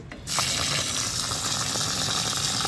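Running tap water gushes into a vessel of old rice being washed, a close, steady rushing stream that starts abruptly and continues without speech.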